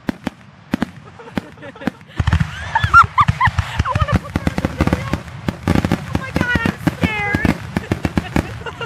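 A fireworks finale: rapid, irregular cracks and pops, some sharp and close, go on continuously while people nearby talk and call out over them.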